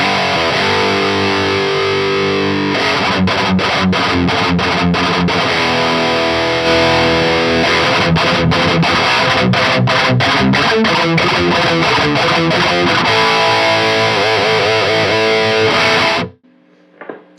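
Mesa Boogie Badlander guitar amp on its crush channel in bold power mode, a heavily distorted electric guitar playing sustained chords and choppy staccato riffs with abrupt stops, loud and unaccompanied, cutting to silence at the end.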